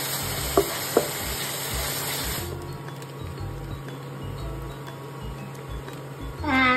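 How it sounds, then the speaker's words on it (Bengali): Capsicum and onion sizzle loudly in a frying pan with a dense, steady hiss for the first couple of seconds, then fade to a quieter background with faint clinks and a brief scrape near the end. "ক্যাপসিকাম পেঁয়াজটা ভাজা হয়ে গেলে আমি নুন গোলমরিচ গুঁড়ো দেব আর তারপরে"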